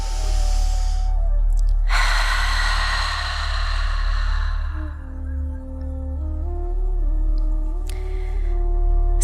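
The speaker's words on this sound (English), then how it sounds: "allow the volume to be loud enough that if there was somebody beside you, that they would be able to hear you breathing" Loud, forceful breathing during a pranayama yoga exercise: two long, rushing breaths taken close up, the second lasting a few seconds, with a soft steady tone underneath and no talking.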